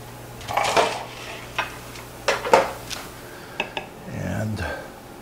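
A metal baking pan lined with buttered aluminum foil handled on a kitchen counter, several sharp clanks and scrapes spread out amid scattered talk.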